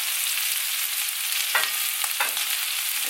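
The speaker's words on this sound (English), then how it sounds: "It's going to sizzle. I'm going to go ahead, turn it back on medium, and I'm going to put these onions and cabbage in here" Onions and cabbage sizzle in a pan over medium heat, a steady close hiss of frying broken by a few short scraping stirs, with no talking.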